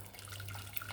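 Hot water runs steadily from a tap in a close, continuous hiss with a low steady hum underneath, with no talking.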